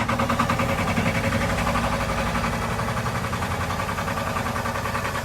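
A Porsche Diesel Standard tractor engine running steadily at close range, a low, even diesel chug with a pulsing rhythm that holds at constant loudness throughout, with no voices over it.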